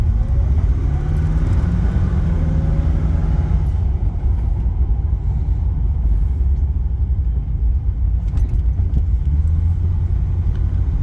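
A 1989 Aston Martin Lagonda Series 4 rolling along a road through a U-turn, its engine and tyre rumble steady and close throughout, with a low hum dominating and no voices.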